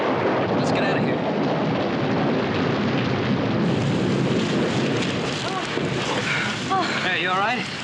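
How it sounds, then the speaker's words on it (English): A wind-driven rainstorm roars loudly and continuously, with gusty wind buffeting and heavy rain noise filling the scene, plus faint scattered squeaky cries near the end. "Uh-oh, here comes the rain."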